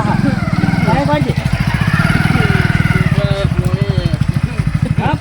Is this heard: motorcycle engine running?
yes